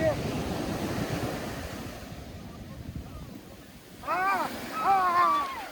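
Steady rush of Pacific Ocean surf in Los Angeles with gusty wind noise on the microphone, and a couple of short cries near the end.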